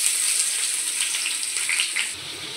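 Chopped onions hitting hot white oil with whole garam masala spices in a wok, a steady bright sizzle throughout that eases slightly near the end, close and fairly loud with no voices.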